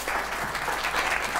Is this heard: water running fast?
no